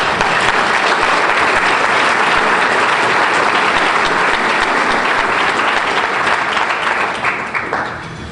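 Loud, full applause from the crowd at a mayor's State of the City address in Stamford, a dense roar of clapping sustained for several seconds before tapering off.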